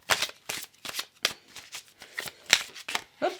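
A tarot card deck is shuffled close by in a quick, steady run of crisp riffling bursts, each flutter of cards snapping and rustling in rapid succession with no talk.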